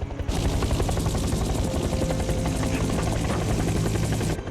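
A helicopter thunders close by, its rotor thumping rapidly and steadily under a loud engine roar that cuts off at the end.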